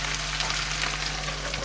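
Sausages fry in a pan after wine has cooked down, giving a steady, dense sizzle that holds at an even level with no voices.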